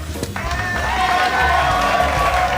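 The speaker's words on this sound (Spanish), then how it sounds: "recibamos con un fuerte aplauso al gran Darío Quiroga." A studio audience on a Spanish-language talk show bursts into loud, sustained applause and cheering to welcome a guest, the clapping and crowd noise swelling and holding steady throughout.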